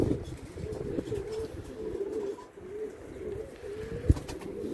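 Arabian Takkaki pigeons, including a young female, cooing in a loft: low, repeated throaty coos rolling on steadily over faint background rustle, with a brief sharp knock near the end.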